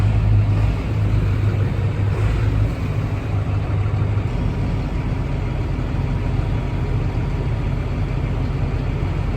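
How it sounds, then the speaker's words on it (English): A tractor engine runs steadily inside a farm shed while the machine is manoeuvred, a loud continuous low rumble with a heavier throaty burst in the first few seconds before settling into an even idle-like drone. "So manoeuvrable, that tractor."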